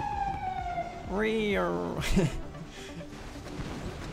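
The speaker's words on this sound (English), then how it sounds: "I believe that is a ambulance" In the Command & Conquer video game, an ambulance siren sounds as a brief rising-and-falling electronic wail, heard once over game noise while a voice talks.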